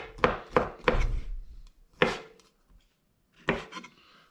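Smoked sausage chopped roughly with a knife: three quick crisp blows, a pause, one more, then a last chop after a longer gap. Each strike is close and sharp, with no talking.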